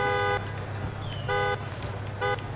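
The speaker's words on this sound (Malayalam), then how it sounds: "ഹോൺ എങ്ങനെയുണ്ട്?" Car horn in the racing video game Forza Horizon 5, three loud steady honks in short bursts against a constant engine drone, with faint electronic chirps between them.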